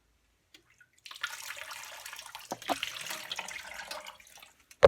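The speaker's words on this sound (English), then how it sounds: "then I'll pour the rest of the dye over top." Liquid dye is poured over yarn in a container, a soft, close splashing and trickling that starts after a quiet moment and carries on unevenly, ending with a sharp knock.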